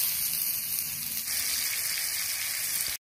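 Chicken frying in hot oil on a clay roof tile gives a steady, close, crackling sizzle that holds evenly, then cuts off abruptly.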